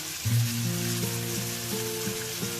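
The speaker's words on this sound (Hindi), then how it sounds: "और अब इसको हम भूनेंगे गोश्त के साथ" Mutton with onion and ginger garlic paste frying in a pan, a loud continuous sizzle up close, with faint stirring and a soft tonal hum underneath.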